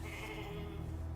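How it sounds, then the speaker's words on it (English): A cloned sheep bleats in the video game The Alters, one drawn-out wavering bleat with a nasal, tonal quality, close and fairly quiet with no talk over it. "I created sheep."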